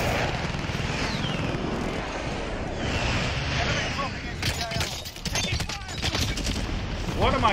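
Video game gunfire crackles in rapid bursts over a steady rumbling background, with a person talking over the action.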